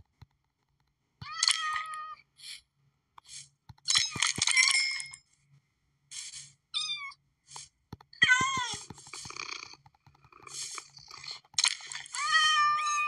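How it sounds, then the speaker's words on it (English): A Minecraft cat gives repeated short meows in irregular bursts with gaps between them, sometimes two calls back to back, near and clear, with a few soft clicks and no talk. "It's really easy taming a cat."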